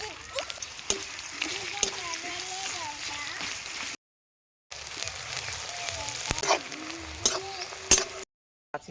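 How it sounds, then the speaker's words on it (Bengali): Chopped onion fries in oil in a wok, a continuous close sizzle with stirring clatter, while someone talks over it and two short gaps of silence interrupt. "পেঁয়াজটা ঠিক এইরকম ভাবে ভাজা ভাজা হয়ে যাবে"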